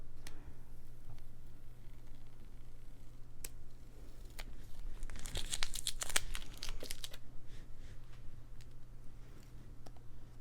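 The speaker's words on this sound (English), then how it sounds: "I'm going to go ahead and pull the rest of this tape off." Tape peeled slowly off a gouache sketchbook page, giving quiet crackles and a louder stretch of tearing and crinkling midway, with occasional faint ticks and a low steady hum beneath, no talk.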